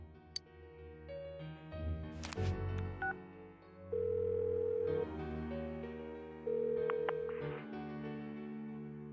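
In a video game, a phone call rings out with a sequence of electronic telephone tones, including sustained dial-like beeps and short chirps, heard clearly and alone without voices.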